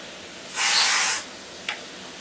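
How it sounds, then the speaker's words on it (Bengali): Room freshener sprays from an aerosol can in a single half-second hiss, followed by a brief faint puff. The room is quiet otherwise. "রুম ফ্রেশনারটা এনে দিচ্ছি"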